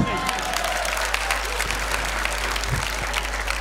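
An audience at an organ donation awareness talk on a Nanded technical campus claps steadily over a low hum, a continuous wash of applause without pause.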